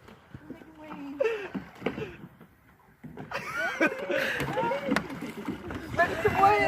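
A kayak paddled in a backyard swimming pool gives intermittent splashes and water sloshes, close and irregular, while several people talk, shout and laugh over them.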